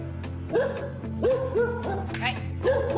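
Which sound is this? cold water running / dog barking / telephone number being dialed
dog barking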